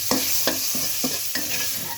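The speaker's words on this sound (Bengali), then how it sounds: "চিংড়ি ভাজা হয়ে গেছে।" Shrimp with salt and turmeric in hot oil in a kadai is scraped and stirred with a spatula, about five rhythmic strokes over a steady close sizzle, with no talk.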